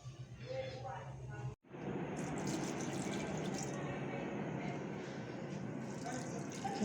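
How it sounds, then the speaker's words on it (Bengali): Water pours steadily onto winter garden plants, including a leafless rose bush, a continuous close splashing rush that starts after a brief pause and carries on to the end. "তো জলটা দিয়ে নিই গাছে"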